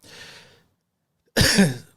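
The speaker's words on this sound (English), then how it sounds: "There's the cough, spicy cough." A single close, harsh cough bursts out after a soft breathy exhale and a moment of silence.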